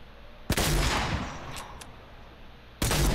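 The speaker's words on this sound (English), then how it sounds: "Why are you shooting it?" Two loud shots from Fortnite gunplay, one near the start and one near the end, with a couple of faint, brief high clicks between them; no talking.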